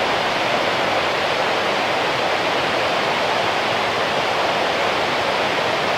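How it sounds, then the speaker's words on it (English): The Cispus River rushes beside a campground footbridge, a loud, steady wash of water that stays even and unbroken throughout, with no voices over it. "again, I got to deal with that noisy river, but I like the sound of it"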